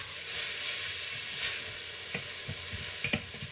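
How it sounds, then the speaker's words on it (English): Mushrooms sizzling in a pan over medium heat for soup, a soft continuous crackle broken by several sharp scrapes and clicks as a utensil stirs them, close by and without talk. "So stir this up, and it's actually going to cook another 8 minutes."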